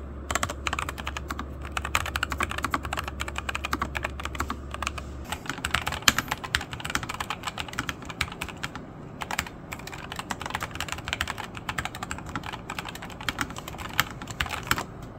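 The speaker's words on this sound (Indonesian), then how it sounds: "Dia juga pakai mechanical switch yang tipe red ya." Rapid, steady typing on a mechanical keyboard with red switches, close and continuous for the whole stretch, with a low hum under the first few seconds and no talking.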